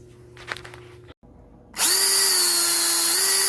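A DeWalt power drill spins up suddenly after quiet handling clicks and runs loud and steady close to the mic, its motor whine holding a constant pitch with a slight shift near the end.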